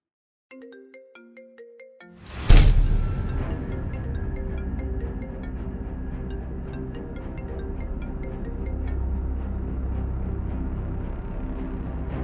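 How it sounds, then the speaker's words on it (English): A mobile phone ringtone plays a short melodic tune, then a loud thump and ongoing rumbling noise continue while the ringing persists underneath. "Is that not my woman's phone ringing upstairs?"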